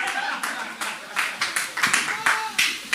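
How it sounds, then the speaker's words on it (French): Applause for the sound engineers at a comedy club show in Burundi: a crowd of hands clapping, fairly quiet, with rhythmic pulses of louder claps building toward the end. "On applaudit encore pour les ingénieurs du son"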